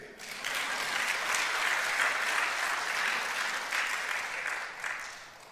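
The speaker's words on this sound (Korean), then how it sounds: "박수 안 치세요?" A church congregation applauds, with dense, even clapping that holds steady for several seconds before tapering off, moderately distant and alone without talk.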